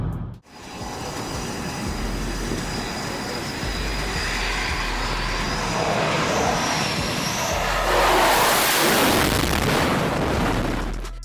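An airplane flies past with a broad, steady roar that holds for the whole stretch and swells louder near the end, with no voices over it.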